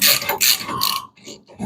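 A ratchet socket wrench clicks in quick bursts on a bolt while a K-frame goes into a 1975 Plymouth Duster, loud and close with a brief pause between strokes.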